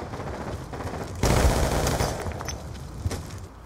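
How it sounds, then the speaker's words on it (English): Rapid gunfire from a first-person shooter video game, with a sudden loud burst of shots followed by scattered sharper reports, close and dense with no talk. "I keep hearing silenced pistol."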